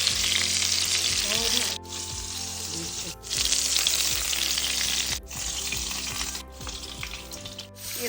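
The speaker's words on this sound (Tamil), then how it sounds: "அப்படியே மிதமான சூட்டில் பொறுமையாக வறுத்து எடுக்கணும்" Chicken seekh kababs fry in a pan over medium heat with a loud, steady sizzle, broken by a few brief pauses and soft scraping as the pieces are turned.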